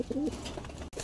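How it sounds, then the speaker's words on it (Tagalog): Racing pigeons coo softly in a new loft, a brief low throaty coo up close, with no talking. "So ito yung mga ibon natin mga kalapatids."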